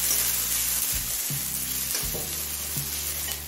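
Thinly sliced onion fries over high flame in a pan, giving a dense, continuous sizzle close up. A few soft stirring scrapes sound under it.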